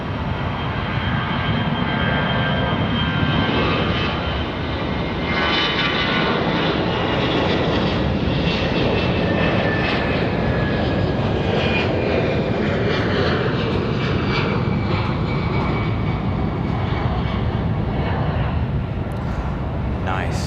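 Airliner departing Raleigh Durham International Airport, a loud sustained engine roar that fills the whole stretch and slowly shifts in tone as it climbs away.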